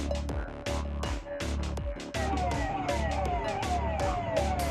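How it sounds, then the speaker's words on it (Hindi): An ambulance siren wails continuously and loudly in a rising and falling pattern, heard at a street scene where people are fainting and being comforted. A few sharp knocks punctuate the wail. "पीछे से एम्बुलेंस की आवाज आ रही है।"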